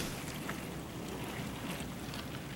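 A dishwasher runs quietly on its express cycle, giving a low, even, continuous rush of water spray and hum with no distinct events and no speech.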